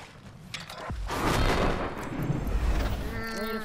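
Heavy gunfire and booming blasts rumble through a match of the battle royale game Apex Legends. The dense, continuous clatter of rounds and explosions is loud and sustained, and a faint voice may be in the mix.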